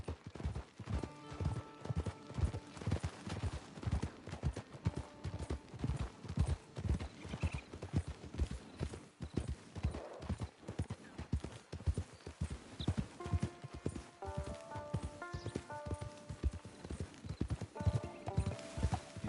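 A horse being ridden in Red Dead Redemption 2 clip-clops in a brisk, even rhythm, loud and close throughout, with background music tones layered over the hoofbeats.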